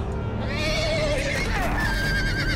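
Several horses in a stampede in the video game Telltale's Game of Thrones whinny and neigh over a steady rumbling din, the shrill calls rising and falling one after another.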